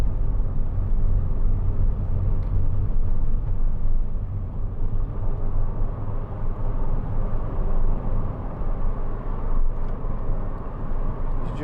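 A 2004 MG TF 1.6 two-door sports car driving on the road, heard as a steady low engine and road rumble from inside the cabin, continuous and fairly loud with no talking.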